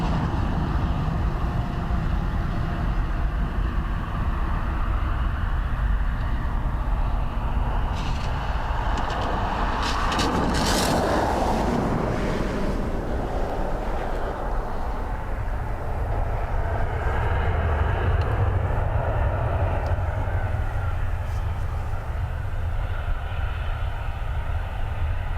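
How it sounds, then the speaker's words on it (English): An Airbus A330neo airliner passes at Dublin Airport in low visibility. A steady deep engine rumble swells into a louder rushing roar around the middle, then settles back to a lower drone. "A330neo."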